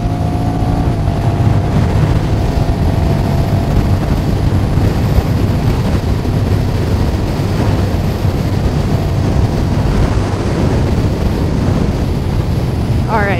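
A 2021 Honda Rebel 1100 cruises along, its engine droning under a loud, constant rush of wind buffeting the rider's microphone.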